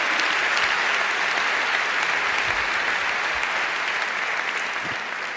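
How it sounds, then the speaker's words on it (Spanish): A large audience at a national canoeing awards gala claps loudly and continuously, a dense, even wash of applause that holds steady and only slightly fades toward the end. "Aplauso fuerte."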